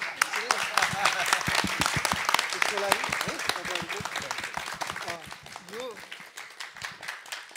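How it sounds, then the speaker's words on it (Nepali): An audience at a public reconstruction-support program breaks into dense, rapid clapping that lasts throughout, with voices calling out over the applause. "म यहाँ माइक राखेर ताली बजाउँछु अनि त्यसपछि सबैले बजाउनु"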